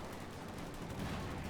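A .50 cal machine gun hoses away in a Company of Heroes 2 battle, a steady, faint, continuous rattle of fire with distant battlefield noise.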